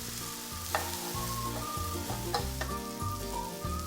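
Beef and paprika cook in a pan with a steady, close sizzle and crackle, broken by a few light clicks and scrapes against the pan.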